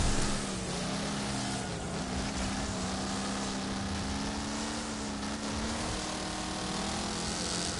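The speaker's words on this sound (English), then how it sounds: "There's a train of cars going by." A pack of race cars in the video game Wreckfest streams past in a continuous, loud engine drone that holds steady at high revs throughout.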